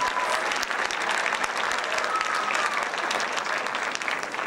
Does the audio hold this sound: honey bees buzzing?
no